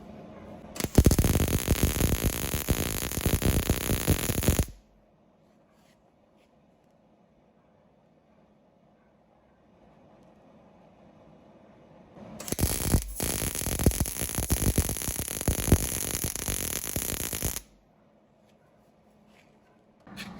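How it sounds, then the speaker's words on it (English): Welding a crack in the steel seat frame of a Jeep Cherokee XJ, with two loud, steady crackling bursts of arc welding, each about four seconds long, separated by near silence. "So I just welded along the perimeter of the whole thing."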